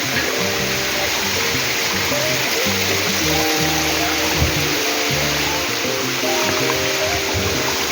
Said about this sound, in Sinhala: වතුර සද්දෙත් එක්ක